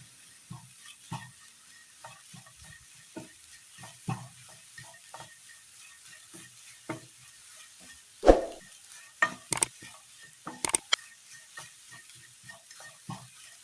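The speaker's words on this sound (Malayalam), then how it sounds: "നന്നായി ഒന്ന് വാട്ടിയെടുക്കണം" Quiet sizzling of carrots sautéing in a pan with scattered scraping and stirring clicks, a few sharper knocks from a utensil, no voices.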